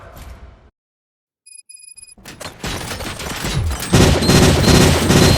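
Rapid gunfire from the Robocop: Rogue City video game bursts in after a brief silence and a few electronic tones, building into a loud, dense, continuous volley of shots.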